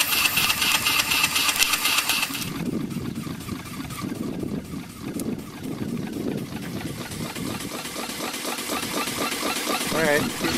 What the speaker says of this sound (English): This is what the fire looks like at 40 psi.